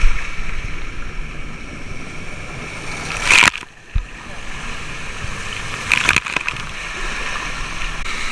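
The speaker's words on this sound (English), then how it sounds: "there's water pouring onto the stairs" Water pouring onto stairs at a resort's water splash area, a steady broadband rushing wash with a few sharp bursts along the way.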